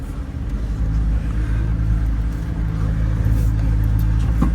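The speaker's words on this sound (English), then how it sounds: "Oh man, this drives like a brand new car." A 1959 Meteor car drives along, its engine giving a steady loud low rumble with a constant drone throughout and a slight rise in revs near the end.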